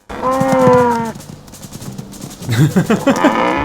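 A cow gives a loud, close moo, followed after a pause by further lowing and grunting from cattle nearby.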